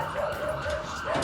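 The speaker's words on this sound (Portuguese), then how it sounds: "E pode colocar a sirene" Police siren from officers arriving early in the morning at a residence in São Leopoldo, wailing steadily at moderate level with a broadcast voice over it.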